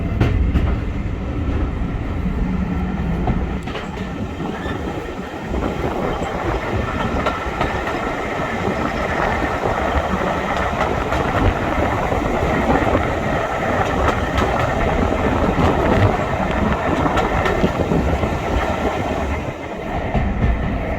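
Steady low rumble of an old diesel train in motion, heard from inside, with a faint clickety-clack underneath, constant and fairly loud for the whole stretch, no voices.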